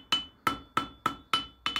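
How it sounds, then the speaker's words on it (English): A hammer strikes a bodkin arrowhead point on the bick of an anvil during forging, six sharp ringing blows in a quick, steady rhythm, each decaying fast, close and alone. "use the bick of the anvil, use that natural curve, forging flat down with the hammer"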